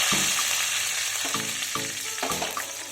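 Black mustard seeds and five or six curry leaves hit hot oil, giving a steady loud sizzle with bursts of crackle and popping as they go in, close and alone with no voices.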